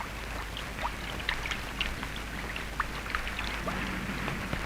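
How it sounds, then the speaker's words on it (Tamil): Heavy rain falls steadily in a Tamil film scene, a dense, even hiss with scattered close drips and splashes standing out on top, and no talking over it. "என்ன வள்ளி, இவ்வளவு மழையில் நினைஞ்சு வந்து நிக்கிற"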